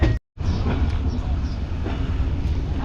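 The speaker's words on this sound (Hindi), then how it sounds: "12:27 से 7 मिनट लेट ट्रेन हमारी निकल रही है भावलपुर रेलवे स्टेशन से" An express train rolls out of a Pakistani railway station in winter, with a steady loud rumble and rattle of coaches close by, broken by a brief silent gap near the start.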